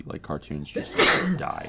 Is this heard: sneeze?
yes